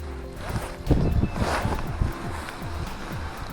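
Outdoor wind at a trout fishery buffets the microphone with a continuous rough low rumble and gusty roar, close and fairly loud, with no clear voices.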